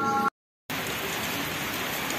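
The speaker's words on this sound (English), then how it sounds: "As you can see, it's all raining outside and we cannot continue our painting here on the wall" Rain falling outside, heard as a steady, dense hiss of drops on surfaces. It begins after a short tonal passage and a brief silence, then continues evenly to the end.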